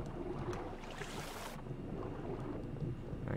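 Steady rain falling in the survival video game Raft, a dense, even wash of hiss with no talk, holding at a constant level for a few seconds.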